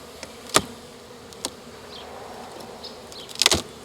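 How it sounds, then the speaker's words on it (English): Bees buzzing outdoors, a faint steady drone punctuated by a few brief, close buzzes as insects pass near, the loudest cluster arriving at the end, with no talking. "Wow, even bees down there."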